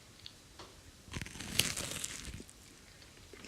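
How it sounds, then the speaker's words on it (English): Overbaked biscuit bitten once, giving a brief crisp crunch that swells around the middle of a quiet stretch and then trails into softer crumbly chewing. "They are overbaked. Let's listen to the crunch."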